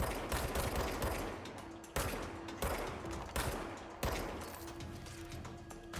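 A big gun blasting away in the video game Control: loud, dense volleys of heavy gunfire with sharp breaks between bursts, close up and filling the whole stretch.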